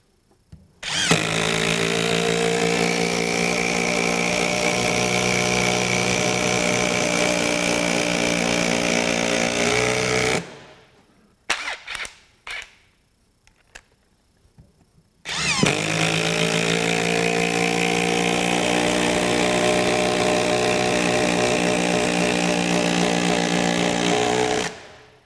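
A Ryobi HP 18V brushless compact impact driver hammers in two long, loud continuous bursts of about nine seconds each, separated by a short pause filled with a few brief clicks and taps.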